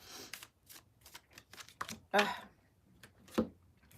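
Tarot cards are shuffled and drawn in a quick series of crisp riffling flicks and slaps, with a couple of louder snaps near the end; a voice speaks softly between them.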